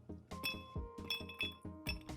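Ice cubes clinking against a glass while a cocktail is prepared, a run of bright, ringing clinks in an irregular rhythm, close and clear with no talk.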